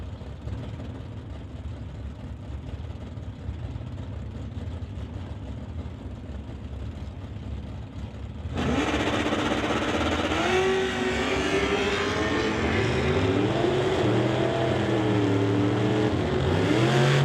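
A 1990s Camaro drag car at a racetrack sits under steady crowd and track noise, then its engine bursts in loudly halfway through and roars continuously with rising and falling revs.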